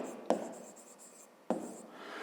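A pen writes out a 5th-grade maths exercise on paper, with two sharp taps as the tip lands and a soft scratching stroke trailing after each, quiet and close.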